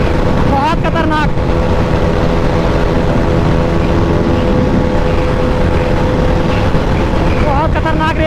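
Pulsar NS400z, Thruxton 400 and KTM RC390 motorcycles at a drag race, a loud continuous roar of engines close by, with a few brief rising whines near the start and end.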